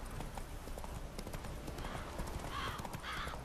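Horse hooves clip-clop steadily through the open-world fantasy game The Witcher 3, a continuous close trot that runs the whole time, with a brief whinny-like tone near the end and some game ambience underneath.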